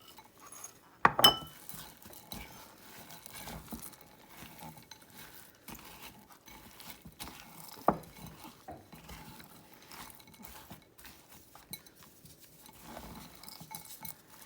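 Mini chocolate chips and chopped pecans folded into cookie dough in a bowl, soft scraping and occasional spoon knocks against the bowl, a couple of sharper clinks, quiet and close with no talking.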